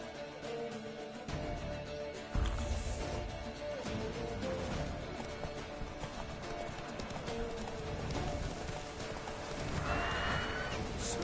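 Horse galloping in the video game The Witcher 3, a steady rapid clip-clop of hooves with a whinny partway through, heard close and continuous over game ambience.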